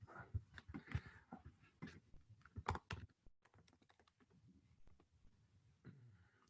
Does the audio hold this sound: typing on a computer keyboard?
yes